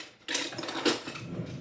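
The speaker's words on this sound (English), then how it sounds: "whisk them together." One egg and a cup of milk are whisked together in a bowl, a quiet, quick rhythmic clicking and sloshing that starts after a short pause and continues steadily.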